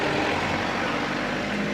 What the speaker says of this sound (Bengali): এই যে গাড়িগুলো যাচ্ছে, এগুলো সবই গ্লেনবার্নের দিকে।